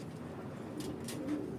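Pigeon cooing softly inside a loft, a low, steady murmuring coo rising slightly toward the end, faint and alone with no talk.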